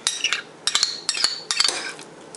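A utensil clinks and scrapes against a bowl in short bursts while melted cheese is mixed with sour cream, close and fairly loud, with no talking.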